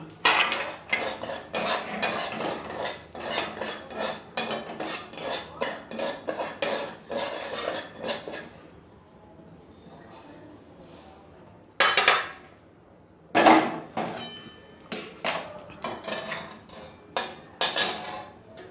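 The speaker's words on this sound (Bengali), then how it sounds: "এবার এটাকে আমি একটা শুকনো পাত্রে নামিয়ে নেব।" Roasted semolina being scraped out of a wok into a dry pot, with dense metallic scraping and clinking of a utensil against the pan, a brief pause, then a few sharp louder scrapes and taps, close and alone.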